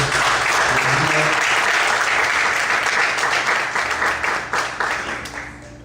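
A church congregation applauding the Lord during a Portuguese-language sermon by Pastor Luciano Escala; dense, sustained clapping fills the room, loud at first and then tapering off toward the end.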